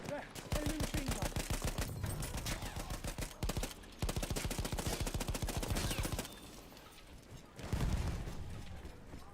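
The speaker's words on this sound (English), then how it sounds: "There, enemy machine gun." Enemy machine gun fire in Battlefield 6 multiplayer rattles in long, rapid, evenly spaced bursts, loud and sustained, with a brief pause and a heavier blast near the end.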